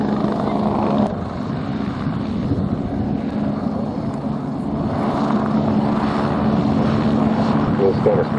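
A Westland Lynx helicopter flies backwards, tail leading, during an air display at RAF Cosford Airshow, giving a steady, loud rotor and engine drone that holds throughout with a broad, rumbling outdoor wash.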